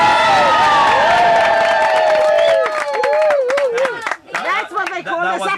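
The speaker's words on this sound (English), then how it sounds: "that was very good applause" A concert audience in Cornwall cheers and claps, loud voices whooping and shouting with clapping mixed in, a lively dense crowd sound that dips briefly before picking back up.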